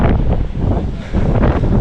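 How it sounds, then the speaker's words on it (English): Loud, continuous wind and rain on the Gold Coast, Australia, buffeting the microphone with a roaring, rushing texture, no voices. "It is so windy and rainy."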